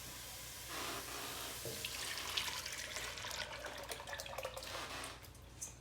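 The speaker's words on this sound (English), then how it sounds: "I'm gonna add the liquid part of the curry" Liquid pours into a pan of Thai green curry, a soft, steady splashing and trickle that stays faint and close for several seconds before tapering off.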